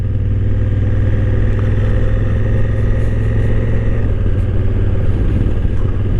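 A Honda Africa Twin motorcycle rumbles steadily while being ridden, its engine drone loud and continuous close by with a slight shift in pitch partway through and no talking.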